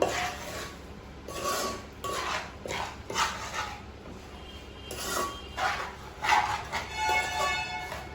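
Ground spice powder is stirred into mutton pickle with a utensil, producing repeated close scraping and rubbing strokes against the container in an uneven rhythm, with faint background sounds between strokes.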